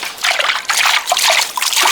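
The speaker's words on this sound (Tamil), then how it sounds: "இப்போ இது மீனை நல்லா கழுவி எடுத்துக்கிறோம்" Fish being washed by hand in water while preparing a fried fish gravy, with close, continuous sloshing, trickling and splashing in uneven bursts.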